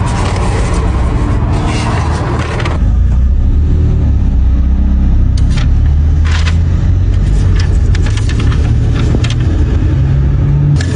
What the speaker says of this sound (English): loud exhaust. I understand. This car's not quiet.